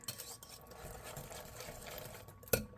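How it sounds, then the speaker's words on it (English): A spoon mixes Southern buttermilk cornbread batter in a bowl with soft, rhythmic scraping and stirring. The sound stays faint and close, and a single sharper knock near the end may be the utensil hitting the bowl. "And we're going to give it a good mix."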